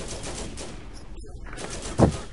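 Gunfire in the video game Borderlands, a steady spatter of shots with one louder burst near the end.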